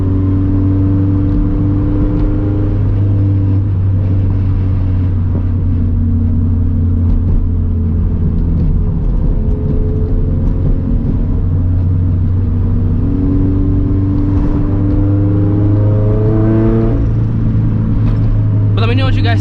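A turbocharged FRS car's engine at light cruise, a steady droning hum with low harmonics that shift gently as the load changes, loud and close from inside the car.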